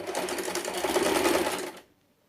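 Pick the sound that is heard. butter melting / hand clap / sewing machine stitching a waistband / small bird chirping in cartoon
sewing machine stitching a waistband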